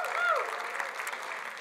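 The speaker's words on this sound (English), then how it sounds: "Give everybody, give Dorota a round of applause." An audience applauds at a talk by doctors on mind health, a steady wash of clapping that stays fairly even and moderately distant, with faint voices mixed in.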